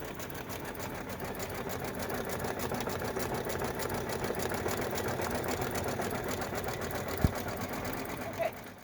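Sewing machine stitching a Los Angeles Dodgers-themed fabric bag, a steady, continuous motor whir and needle chatter running throughout at an even level, with a brief click near the end.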